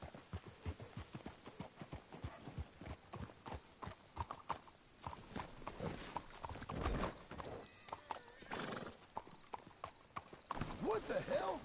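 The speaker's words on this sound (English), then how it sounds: "Let's hitch the horses up ahead" Hooves clip-clop in an uneven trot in Red Dead Redemption 2, close and clear, with voices talking over them and a horse whinnying near the end.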